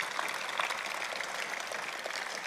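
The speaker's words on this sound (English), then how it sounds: "I will welcome an applause for you are awesome." A convocation audience at Trent University applauds graduates, a steady, dense wash of many hands clapping at once, moderately loud and continuous throughout.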